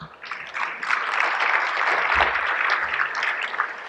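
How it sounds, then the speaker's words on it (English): A banquet-hall crowd at an awards gala claps together in a full, sustained round of applause that swells quickly and holds steady, with a few low thumps beneath it. "I want you guys to give yourselves a round of applause for that"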